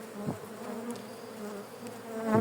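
Honeybees buzz steadily around an open hive, a dense close hum that stays at an even level for the whole stretch, with no voices.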